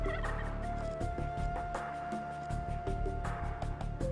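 Turkeys gobble repeatedly in the real-time strategy game Age of Empires, with the game's layered sound effects and clicks going on around them. The gobbling is dense and fairly loud.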